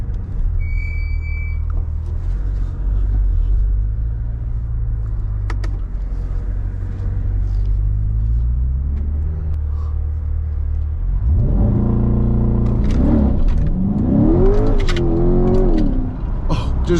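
A C8 Corvette Stingray coupe idles with a low rumble, then launch control fires it off. The engine revs hard and rises in pitch while the wheels lose traction, loud and close from inside the car.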